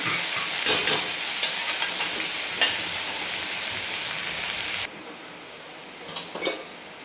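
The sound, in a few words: chili powder and salt added to frying greens, stirring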